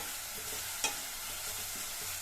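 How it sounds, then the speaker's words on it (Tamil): Onion and curry leaves sautéing in hot oil, a steady close sizzle with a light hiss and one brief clink of a spatula against the pan partway through. "சேர்த்துட்டு இந்த வெங்காயத்தை ஓரளவு கலர் மாறுற அளவுக்கு வதக்கிக்கணும்"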